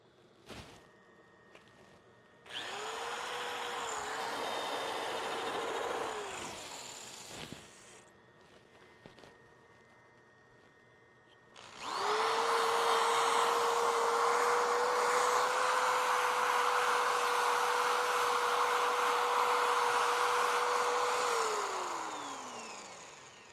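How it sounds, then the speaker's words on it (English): A lathe motor hums and whines as wet sanding hisses against a spinning wooden bowl in two long runs, the second louder, each winding down at the end. "So the wet sanding is driving sawdust, sanding dust into the crack."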